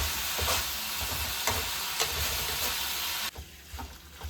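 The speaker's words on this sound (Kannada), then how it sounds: "ಗೈಸ್ ಬಾಯ್ಲ್ ಆಗ್ತಿದೆ, ಇನ್ನು ಸ್ವಲ್ಪ ಆಗಬೇಕು" Pepper chicken cooked with curd bubbling in a pan, a steady close sizzle and simmer with a few spoon scrapes, then quieting briefly toward the end.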